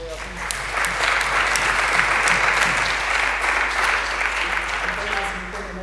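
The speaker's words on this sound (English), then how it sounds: "give them a big round of applause" A crowd at a PocketQube workshop applauds steadily for several seconds, a dense wash of clapping with some voices mixed in.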